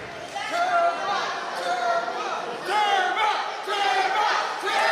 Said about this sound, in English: And the crowd firmly behind Tyler Turva already